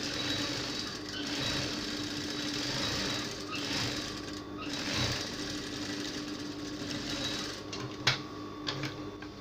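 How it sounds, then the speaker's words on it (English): A sewing machine runs steadily while hemming the lower edge of a gown sleeve, giving a soft, continuous mechanical whir with a small clunk near the end. "I'm hemming the lower part of my sleeve."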